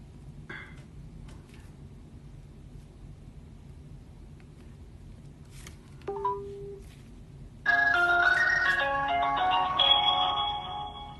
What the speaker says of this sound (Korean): 어차피 저는 로밍을 했기 때문에 전화를 하겠습니다.